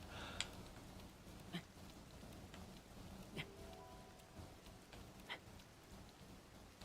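Rain falls in a video game, heard from under a sheltering overhang as a soft, steady patter with a few sharper drips popping out at intervals, faint and without talk.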